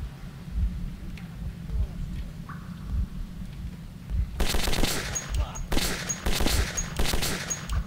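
Gunfire in the first-person shooter Metro 2033 in its tunnels: quiet ambience with a low rumble, then a loud burst of automatic shots in the second half, with several rapid volleys.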